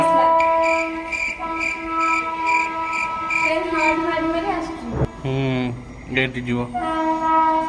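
A train arrives at a station, its horn sounding loud and sustained in long blasts, with a short break and a second blast, over rumbling rail noise while people talk nearby.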